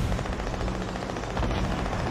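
Distant rapid gunshots in the battle royale game Fortnite, a muffled, steady rattle of automatic fire beneath a constant background rumble, with no voices.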